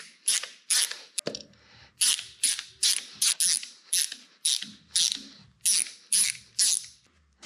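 Ratchet wrench clicking as it loosens bolts on a Ford 351W 5.8L V8, including motor mount bolts, in bursts of rapid close ratcheting separated by short pauses, with no talk.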